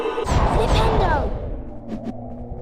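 The Flipendo spell goes off in the Harry Potter and the Philosopher's Stone game on PS5, a loud swooshing magical burst under an overlapping voice, followed by a couple of short faint zaps as it fades.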